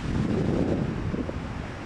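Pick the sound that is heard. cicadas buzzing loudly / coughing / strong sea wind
strong sea wind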